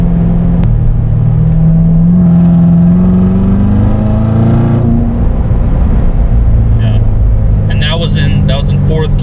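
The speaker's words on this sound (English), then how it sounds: "That was in fourth gear, kind of like a higher gear, not really giving it at all, and you can just, like, the rumble is amazing in this car." Rumble of a 2016 C7 Z06 Corvette engine cruising in fourth gear, a deep steady drone that rises gently in pitch as the car pulls, heard from inside with loud continuous road and wind noise.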